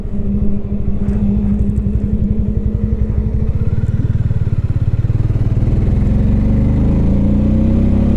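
A Hero Hunk 440 motorcycle engine runs steadily at about 3000 rpm in sixth gear near 80 km/h, a loud, close, continuous low throb that rises gradually in pitch, heard alone without talk.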